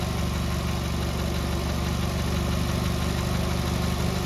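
A 2006 Ford Focus engine idles steadily, a continuous even mechanical hum with a faint high whine on top, close and constant with no talk.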